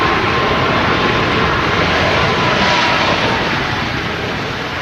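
Ryanair Boeing 737 MAX airliner arriving at Manchester Airport, a loud, steady, broad jet roar that holds for the whole stretch and eases only slightly at the end.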